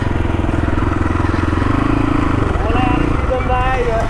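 A new motorcycle's engine runs close by with a steady, throbbing pulse that holds through the whole stretch, as voices talk over it.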